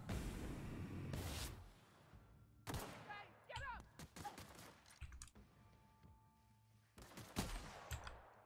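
Shotgun blasts from The Outer Worlds video game, several sharp booming shots spaced irregularly at close range, mixed with clicks and other game effects and some speech.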